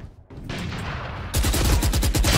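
Rapid automatic gunfire in the shooter game Valorant, a dense burst of fast repeated shots close and loud after a softer lead-in.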